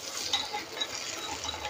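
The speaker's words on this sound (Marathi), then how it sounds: "तर ही फोडणी आपल्याला या चटणीवरती टाकून घ्यायची." Hot oil tempering with curry leaves hits a bowl of chutney and gives a short, faint, even sizzle with a few light clicks.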